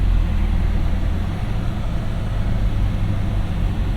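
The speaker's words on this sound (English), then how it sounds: "Apologize for the fan, it's gonna get loud for just a second." Climate control fan blowing loudly inside a 2022 Cadillac CT5-V Blackwing, a steady broadband rush of air that holds constant throughout with no speech over it.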